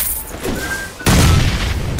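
A loud bomb blast in PUBG Mobile erupts suddenly after a brief lull, with a heavy low boom that rumbles on for about a second.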